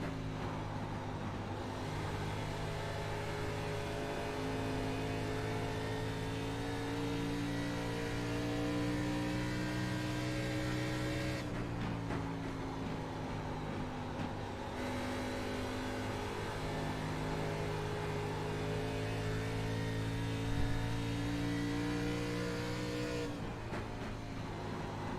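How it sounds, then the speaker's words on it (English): A race car engine at Rockingham, heard onboard during an ARCA Series lap with the driver fuel saving, drones steadily and loud, its pitch rising through long pulls and dropping sharply twice as the car lifts for corners. "We're going to do an onboard with Weeks for 1 lap and just listen to how much these guys are trying to fuel save"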